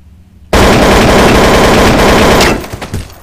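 Gunfire in Counter-Strike: Source starts abruptly as a loud, close, rapid automatic burst and keeps up steadily for about two seconds. It then breaks into a few scattered shots, with no voices.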